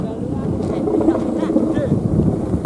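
Strong wind buffets an outdoor scene at a kite-flying gathering, a constant loud rumbling roar with gusty fluctuations and faint voices underneath.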